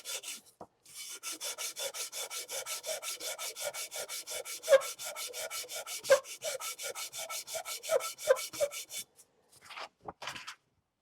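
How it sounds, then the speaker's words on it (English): Ford flathead carburettor halves are rubbed back and forth on 240-grit sandpaper laid on a flat surface, giving close, rhythmic rasping strokes that run steadily for several seconds before stopping. "So on a flat surface with some sandpaper, and in this case I'm starting pretty rough,"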